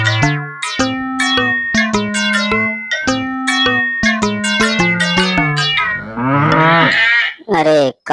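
A toy cartoon farm cow gives a long series of loud, close moos, one after another, in a clear, harmonic, synthetic-sounding voice with no talking over it.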